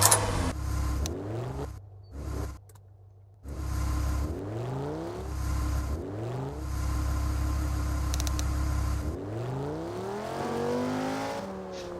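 A car engine in a Garry's Mod roleplay server revs through a series of rising, whining sweeps. There are short pauses between them, and one long climbing rev comes at the end, steady and close.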